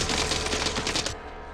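The Night Fire bow in Fortnite fires in a rapid run of about eight sharp, evenly spaced shots, loud and close over a steady game background, then stops abruptly.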